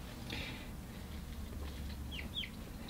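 Backyard chickens cluck softly while drinking. The sound is faint and quiet, with a few brief higher chirps over a low background hum.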